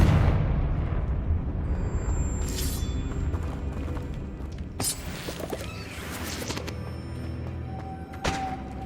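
A Confringo fire spell explodes in the video game Hogwarts Legacy, a heavy rumbling blast at the start followed by several sharp bursts and thuds spread across the scene.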